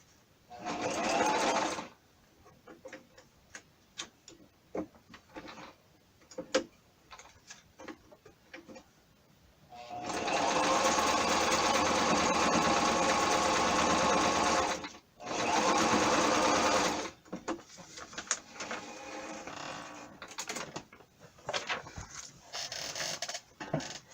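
A sewing machine stitches over a junk journal page in several loud bursts of steady whirring, with quieter ticking and handling sounds between runs and no talk.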